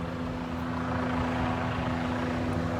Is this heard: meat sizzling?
no